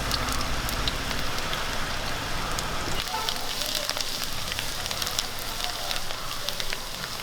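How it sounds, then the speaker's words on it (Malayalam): Chopped ginger and garlic hit hot coconut oil for a fish curry, starting a loud, steady crackling sizzle close by that holds for the whole stretch, with a sharper burst at the start as the pieces drop in. "എണ്ണ ചൂടായിട്ടുണ്ട് നമുക്കിനി ഒരു ശകലം ഇഞ്ചി വെളുത്തുള്ളി അരിഞ്ഞത് ഇട്ട് കൊടുക്കാം"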